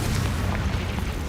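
A Confringo fire spell explodes in Hogwarts Legacy, a loud, dense boom and rumble filling the whole short moment with no voice over it.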